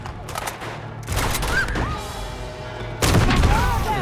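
Heavy pistols firing in Uncharted 2: Among Thieves, a loud burst of gunfire that hits at the start, again around the one-second mark and hardest near the three-second mark, sounding like a close fusillade layered with game music.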